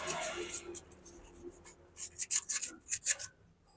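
Sandpaper scrubbing the lower part of the distributor in a Suzuki Carry 1.0 with points ignition, heard as short, close, papery rubbing strokes in quick irregular bursts with brief pauses between them.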